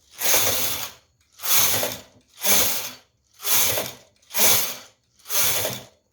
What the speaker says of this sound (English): So after this, I'm going to knit plain 6 rows.